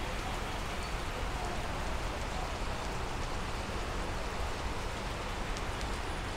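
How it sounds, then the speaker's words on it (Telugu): Heavy, sudden rain pours down outdoors at the Hare Krishna Golden Temple (Jagannath temple) in Hyderabad, a steady, even hiss of dense drops that holds without pause, fairly soft in level and free of voices. "అబ్బా ఘోరంగా వర్షం పడుతుంది, పంచుతుంది, సడన్గా స్టార్ట్ అయింది."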